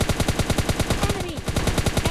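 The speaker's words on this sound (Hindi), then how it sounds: "अब पूरी पूरी मैगजीन खाली कर दी" An automatic rifle in PUBG Lite empties a full magazine in a fast, steady stream of loud, punchy shots with no break between them. The firing sounds close and dense, and faint speech comes through underneath.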